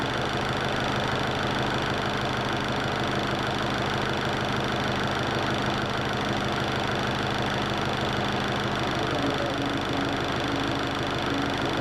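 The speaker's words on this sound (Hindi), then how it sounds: "जब तक हम 775 आरपीएम तक नहीं पहुंच जाते तब तक इंजन की गति बढ़ाते रहें।" Yuvo 575 DI tractor engine idling steadily at low speed, a continuous close-up diesel rumble with even knocking texture and no speech.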